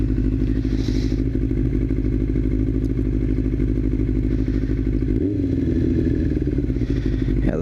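A carbureted Yamaha R6 sport bike cruises under way, its engine holding a loud, steady drone close by with rumble throughout and a brief shift in pitch partway through, like a gear change or throttle change.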